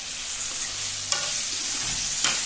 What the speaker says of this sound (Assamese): আদা নহৰু পেষ্টখিনি ভাজি হোৱাৰ পাছত আমি কাটি থোৱা ইয়াত বিলাহীখিনি দি দিম